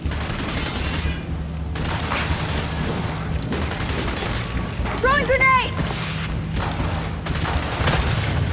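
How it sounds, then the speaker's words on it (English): A thrown grenade goes off amid a Gears 5 firefight against the Locust, a heavy boom mixed with gunfire, whistling debris and game effects under shouted voices. "Throwing grenade!"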